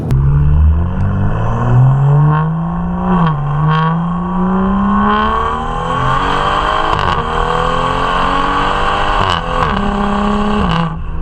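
A BMW M235i exhaust with a catless downpipe rumbling loud and close, the engine note rising steadily as it revs, with a brief dip and deep, raspy drone throughout.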